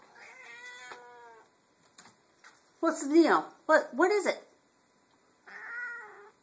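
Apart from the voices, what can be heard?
hungry cat meowing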